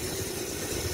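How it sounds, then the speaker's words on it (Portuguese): A homemade mini motorbike powered by a hoverboard motor runs steadily on a street in Aracaju, a low, smooth and fairly quiet hum without strain. "O motor, você vê que ele não tá trabalhando forçado, que ele não faz aquele barulhinho tum"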